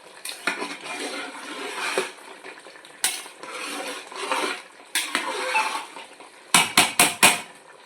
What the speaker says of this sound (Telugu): కొత్తిమీర వేసాం కదా, ఒకసారి కలుపుకుందాం.